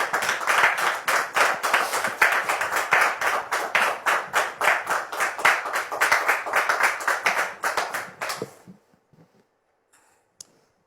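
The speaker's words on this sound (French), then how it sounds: "Sous vos applaudissements." A studio audience on a French TV talk show applauds a newly arrived guest, brisk clapping that holds steady for about eight seconds before cutting off into near silence with a single faint tap.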